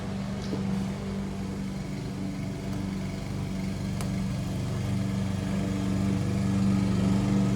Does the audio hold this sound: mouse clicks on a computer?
no